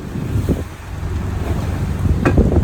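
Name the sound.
wind blowing on a sailboat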